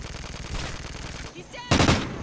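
A sentry gun fires during a Call of Duty Ghosts Domination match on the Mutiny map. Rapid automatic gunfire rattles steadily, drops briefly, then returns as a louder, closer burst.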